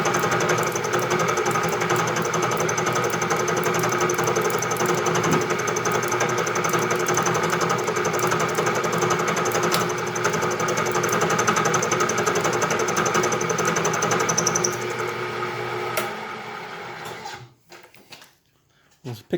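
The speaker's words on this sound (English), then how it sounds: "So this is the final pass that will give the relief, and we'll cut all 6 of these." A CNC machine makes the final relief pass on a 40-position tool holder bridge part, a steady loud machining drone with tonal whine running continuously, then cutting off near the end.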